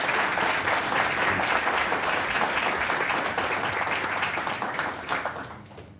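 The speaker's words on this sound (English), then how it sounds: "can I suggest that we all give Professor Laryea another round of applause?" A lecture-hall audience applauds a professor at the close of an inaugural lecture on construction economics, steady dense clapping for several seconds before it thins toward the end.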